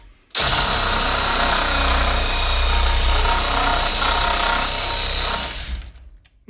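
An AL-KO HS 2015 cordless 18 V reciprocating saw cuts into brick with a loud, steady, harsh buzzing for about five seconds, then winds down and stops.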